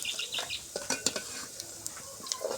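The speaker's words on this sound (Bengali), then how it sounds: "এটা আমি বাদামি বাদামি করে ভাজে নিচ্ছি।" Onion and garlic browning in a pan, with a bright hiss of frying oil under clinks and scrapes of a utensil stirring against the metal, close and fairly busy.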